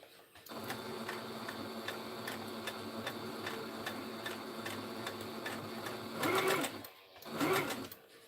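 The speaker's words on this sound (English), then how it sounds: "I'm gonna try and lock this stitch down again, because I don't like how much material is showing." A sewing machine runs steadily for several seconds, a rapid regular mechanical ticking as it stitches back over a seam to lock it, then pauses and gives two short louder bursts near the end.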